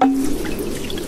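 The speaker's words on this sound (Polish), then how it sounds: "taka bambusowa, pusta tyczuszka, przez którą leci woda" Water runs through a hollow bamboo tube of a Japanese shishi-odoshi fountain, a close, steady splashing flow with a brief tonal ring at the start.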